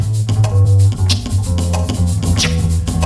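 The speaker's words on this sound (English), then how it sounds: "you just want to snap the record and pop the fader with it" Quick stab scratches on a vinyl record, cut sharply with the mixer fader, snap out as short swooping bursts over a loud, thumping beat.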